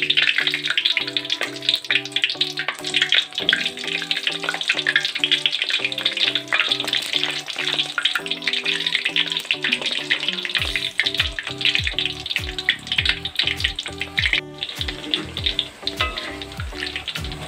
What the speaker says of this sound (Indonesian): Goreng dan masukkan terong satu persatu.